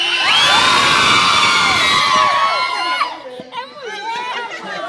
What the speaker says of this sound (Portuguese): O grito das mulheres!